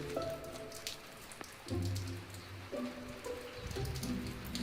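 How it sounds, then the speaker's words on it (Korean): Rain begins to fall outside a traditional Korean head-family house just as a meal is finished, giving a steady, soft patter of drops that continues throughout with no talking. "음식을 완성하자 때맞춰 내리기 시작하는 비."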